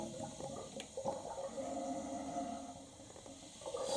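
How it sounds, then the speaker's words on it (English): Water rushes steadily into a Mansfield toilet tank as the supply valve is slowly opened during a repair, a continuous close hiss and gurgle of refilling with no talking. "We will now slowly open the water here."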